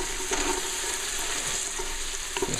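Onions sizzle and fry in a pan for Portuguese rice, a steady broadband crackle with a few brief stirring scrapes over it, close and continuous.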